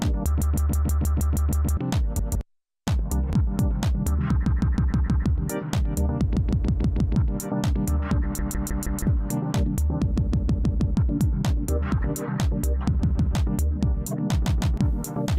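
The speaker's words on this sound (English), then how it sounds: "Hold will also hold the scatter buffer that it's repeating over more steps" A Roland MC-101 groovebox playing a beat through its scatter effect with hold engaged, dense drums chopped into rapid stuttering repeats and retriggered fragments, loud and alone, with a brief dropout early on.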